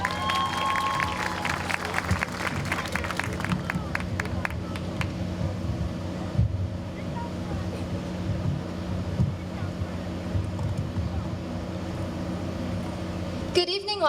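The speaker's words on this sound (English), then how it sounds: "please give a round of applause for contestant number 3, Adriana Garcia." An audience applauds at the 2023 Wauseon homecoming pageant as a contestant walks onstage: steady, dense clapping fills the hall for the whole stretch and stops sharply near the end.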